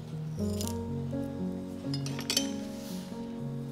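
A spoon clinks against a bowl a few times in quick, light taps while mixing a dipping sauce of bean sauce, peanuts, fried shallots and chili, with steady music playing in the background.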